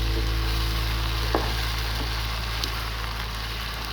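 Sliced ridge gourd frying in a pan with roasted spices, a steady soft sizzle and hiss broken by a couple of faint scrapes as the pieces are stirred.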